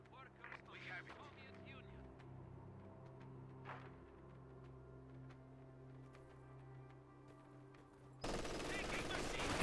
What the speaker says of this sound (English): MG42 fire away, gets a full burst but no suppression.